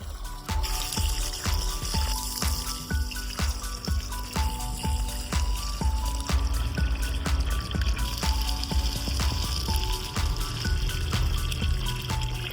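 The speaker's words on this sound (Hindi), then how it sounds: "अब मैं दे रही हूँ पौधों में पानी, क्योंकि पौधे भी सूखने लगे।" Water pours steadily onto potted plants, making a continuous splashing trickle that stays at an even, fairly loud level throughout.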